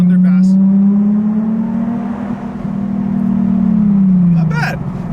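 A car accelerates through an underpass, its engine a loud, steady drone that swells and holds, then tapers off near the end, with a faint voice at the start and close.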